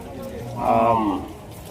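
One loud, drawn-out moo rises from nearby cattle at a cattle and buffalo market in Rajshahi, with a low murmur of people behind it.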